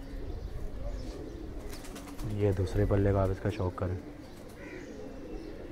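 Pigeons of a Ferozpuri and Faqeergull mix breed coo softly in a loft, a low rhythmic burbling swelling briefly in the middle while someone talks over it nearby.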